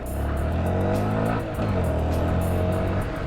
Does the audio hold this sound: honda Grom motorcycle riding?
yes